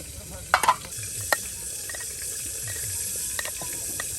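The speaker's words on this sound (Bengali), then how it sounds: "দেখুন একদম ডিমগুলো এখন আওলানো হচ্ছে ভর্তা করার জন্য।" Eggs are stirred and mashed into egg bhorta, with soft scraping and a few sharp utensil clicks over a faint, steady hiss, outdoors by a riverbank.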